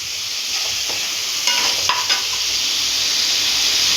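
Oil-fried eggplant (ennai kathirikkai) frying in oil with a constant sizzle, broken by a few soft scraping stirs and clinks of a spoon against the pan.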